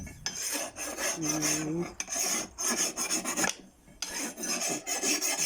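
A metal file rasps back and forth across a machete blade in steady, close strokes, with brief pauses between passes.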